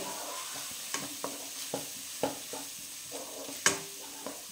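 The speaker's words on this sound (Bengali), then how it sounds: "একটু ভাজা ভাজা করে নেব।" Gram flour fries in a pan while a spoon stirs it, giving a run of sharp scraping knocks at an uneven beat over a faint, close sizzle, with no voices.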